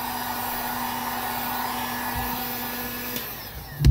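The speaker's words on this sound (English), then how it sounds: "we got the heat gun. So let's go ahead and heat it up." A heat gun blows hot air steadily to soften Kydex for a holster, a constant close whooshing drone with a steady hum that holds for several seconds before a brief clunk at the end.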